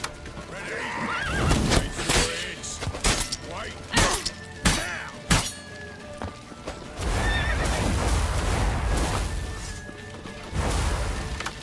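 A horse whinnies loudly in The Witcher 3 video game, with clip-clopping hooves, crashes and smashing impacts in a chaotic chase scene, plus shouted voices mixed into the dense, continuous action.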